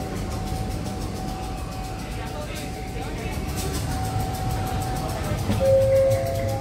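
Steady low rumble and rattle of a moving train carriage heard from inside, with a continuous hum and a brief tonal whine near the end.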